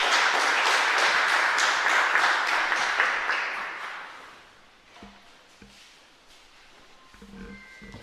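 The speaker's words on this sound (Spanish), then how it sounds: "Fuerte aplauso entonces para nuestra comunidad" A church congregation at a patronal novena for San Juan Bautista bursts into loud, dense applause that holds for about four seconds, then fades out into room noise with a few faint knocks.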